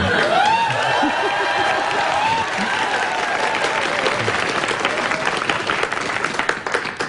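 An audience claps loudly and continuously, a dense wash of applause that holds steady then thins slightly, with a voice briefly audible beneath it.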